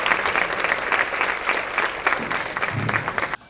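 Audience applause at a conference session on recreation and inclusion, a steady burst of clapping from a room full of people welcoming a speaker, sustained for a few seconds before stopping abruptly.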